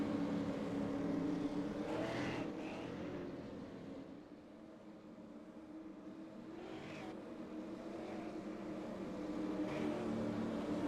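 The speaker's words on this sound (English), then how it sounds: "Pace car about to peel off." Race car and pace car engines at North Wilkesboro drone steadily at a fair distance, the roar swelling and easing as cars pass by in a continuous rumble with no talk over it.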